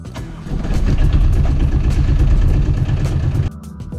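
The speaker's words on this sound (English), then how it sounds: "start the engine to make sure the battery works" A car engine running loud and close after a battery replacement, settling into a steady idle with a dense, rumbling low drone, then dropping to a quieter hum near the end.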